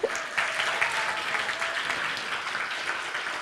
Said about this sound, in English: Can we keep clapping for a bit?